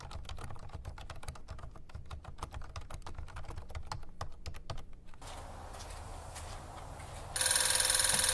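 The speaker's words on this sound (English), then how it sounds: "It's just all typing." Typing on a computer keyboard, rapid irregular key clicks for about five seconds, then a quieter hiss and a sudden loud bright noise burst at the end.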